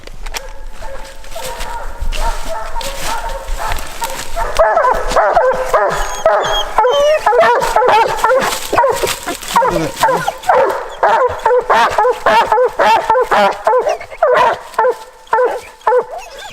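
Coon hounds bay and bark excitedly during a night hunt, with dense overlapping yips and howls from several dogs close by, while people talk intermittently underneath.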